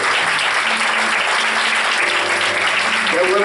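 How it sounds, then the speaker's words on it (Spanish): A church congregation breaks into loud, continuous applause, a thick close wash of many hands clapping with faint voices mixed in throughout. "Yo no sé si tú puedes darle un aplauso a Dios."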